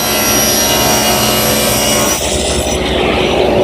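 A power saw cross-cuts a teak board to square its end, a loud steady whining cut that drops in pitch and load near the end of the pass, close up with no talking.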